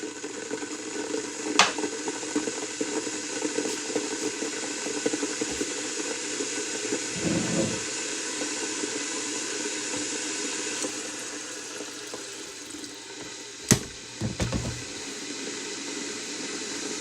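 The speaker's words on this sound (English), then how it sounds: "I got to put some water in my jar." Water pouring from a tap into a small jar, a steady hissing fill that runs on for a long stretch, with a few brief clinks and bumps partway through and no talking.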